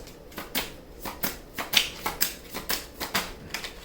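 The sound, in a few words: tarot cards being shuffled and drawn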